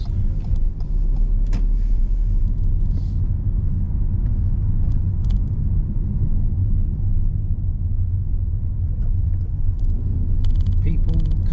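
City street traffic of cars and buses rumbles steadily and loudly nearby, a dense low engine drone with occasional higher noises and voices mixed in.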